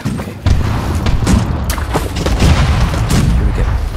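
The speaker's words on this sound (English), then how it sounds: "I'm gonna fire from the cannons" Cannon fire from a pirate ship in The Last Leviathan, a run of loud booming blasts with sharp onsets every half second or so over a continuous rumbling battle din.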